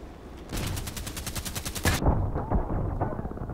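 Rapid automatic gunfire in the shooter game Contract Wars sounds as a tight burst of about a dozen sharp shots, followed by scattered reverberant shots and impacts.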